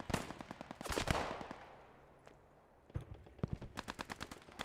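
Sten submachine gun in the WWII shooter Post Scriptum, fired in rapid bursts of sharp cracks, with a distant pause and lone shot before another fast rattling burst closes it out.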